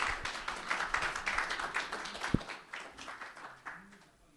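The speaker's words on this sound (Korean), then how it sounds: "큰 박수로 맞아주시기 바랍니다." An audience at a breakfast forum claps to welcome a lecturer, fairly faint and steady clapping from many people that gradually tapers off.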